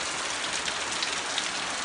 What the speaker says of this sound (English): it's been raining non-stop